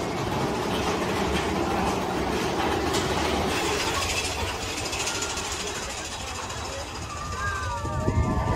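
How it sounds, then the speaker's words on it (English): A Big Thunder Mountain Railroad roller coaster train at Walt Disney World rumbles and clatters along its track, loud and continuous, with wheel squeals rising near the end. "next up is Big Thunder Mountain Railroad"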